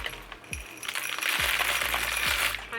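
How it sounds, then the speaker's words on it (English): LECA clay pebbles scattering and clattering during houseplant repotting, a run of sharp hard clinks and rattles that builds into a dense tumbling patter, close by. "it's hard with the LECA flying everywhere"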